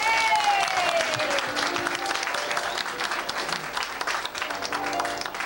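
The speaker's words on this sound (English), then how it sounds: "How about a big round of applause" Guests at an 80th birthday party clap together in a dense, lively round of applause, with faint voices and a tonal whistle or cheer over the clapping.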